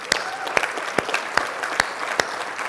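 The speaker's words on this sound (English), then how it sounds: "You deserve a round of applause." Sparse applause from a union members' meeting audience at a nurses' association president's address in Thunder Bay, a handful of sharp claps standing out over a steady soft patter, fairly quiet and without talk.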